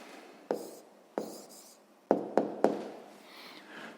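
A pen writes down an answer to a 6th grade maths exercise, close and quiet, with scratchy strokes broken by several sharp taps as the pen meets the paper.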